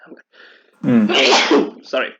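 A single sharp, close sneeze bursts out after a quiet breath and is followed by a short spoken word.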